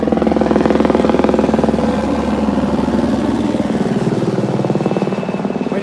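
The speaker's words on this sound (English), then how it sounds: "hopefully you can still hear me as this helicopter goes overhead." A helicopter passes overhead with a loud, continuous rotor thump and engine drone that pulses steadily throughout.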